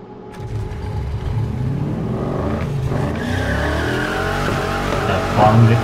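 Racing car engines in Need for Speed Heat roar and climb in pitch, with tire squeal and skidding toward the end, loud and close.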